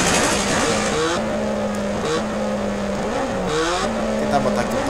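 A Honda CB1000R motorcycle ridden in GTA San Andreas: a loud, continuous engine drone that rises and drops in pitch as the rider shifts and revs.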